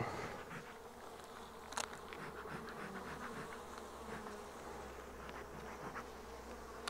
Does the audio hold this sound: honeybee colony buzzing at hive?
yes